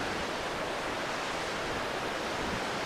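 A loud, continuous rushing of river water near Thurmond, West Virginia, dense and steady without any break, filling the whole scene.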